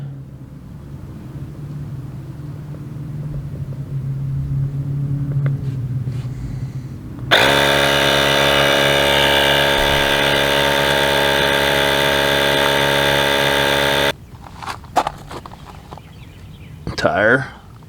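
An Auxito portable jump starter's built-in air compressor inflates a car tire, running as a loud, steady, buzzing drone for about seven seconds in the middle, with quieter handling noises and movement before and after.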